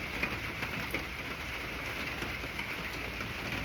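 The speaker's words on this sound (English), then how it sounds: "Lots of rain." Steady rain falls in Florida as an even, dense hiss with a few faint drips and patters standing out, continuing without a break and with no voices.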